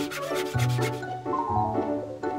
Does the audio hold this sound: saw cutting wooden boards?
yes